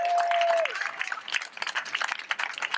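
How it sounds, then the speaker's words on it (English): At an outdoor healthcare rally, a crowd claps in a loose, scattered patter, fairly distant and moderate, after a brief held tone at the start. "Let's give everybody a big round of applause for that one."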